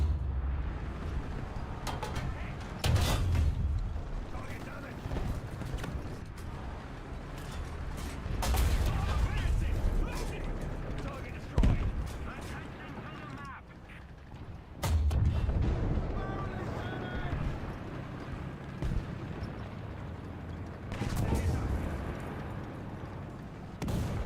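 Gunfire and booming cannon-like blasts in War Thunder, arriving in repeated heavy bursts over a dense, rumbling battle din.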